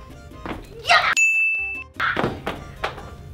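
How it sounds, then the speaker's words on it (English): A phone drops with a sharp thunk and a brief ringing ding, then clatters again as it settles, amid loud nearby commotion. "My phone fell"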